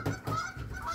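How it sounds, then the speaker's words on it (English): Geese honking outside, two or three quick, muffled honks heard at a moderate distance. "So the geese are going crazy out there"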